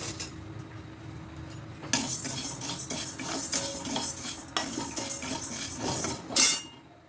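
Urad dal being dry roasted in a kadai over low heat, with a steady run of metal spoon scrapes and clinks against the pan, close and fairly loud, with no talk.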